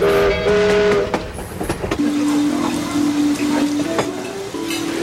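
A train rumbles past with a loud steady roar and a sustained tonal whistle-like drone, close and continuous throughout.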